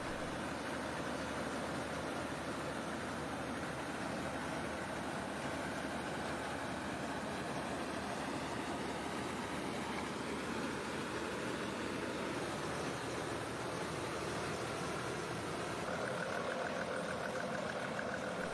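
An antique farm machine's engine runs steadily and continuously at close range, a dense mechanical drone with no gaps and no voices over it.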